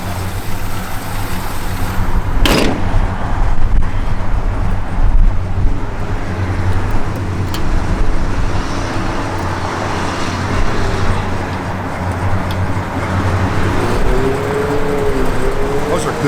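A 1970 Dodge Charger RT/SE cruises along the road, its steady engine and tire rumble droning throughout, with a sharp knock near the start and faint talk mixed in.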